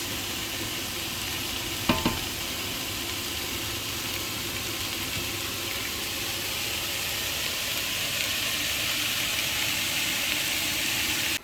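Onions fry in a pot, turning golden, with a constant close hiss and sizzle that holds evenly throughout, marked by one brief sharp clink near the start; no one speaks.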